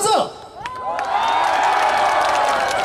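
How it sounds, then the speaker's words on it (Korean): A large open-air crowd at a festival opening concert cheers and shouts loudly and steadily after a brief quiet moment, a dense sustained roar of many voices with whoops on top. "한 번 더 함성."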